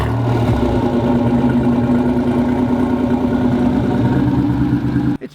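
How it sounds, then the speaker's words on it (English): A supercharged 3800 V6 swapped into a cheap sleeper car, breathing through a custom header and exhaust, idles with a deep steady rumble close by before cutting off abruptly near the end. "This has had a 3800 engine put in with a supercharger, custom-made header and exhaust, and this is what it sounds like."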